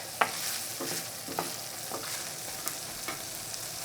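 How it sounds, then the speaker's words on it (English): Potato and ham stir-fry in a hot pan, giving a steady close sizzle broken by repeated spatula scrapes and light clicks against the pan. "Gently, gently stir until all this stuff is shiny and all these things well cooked."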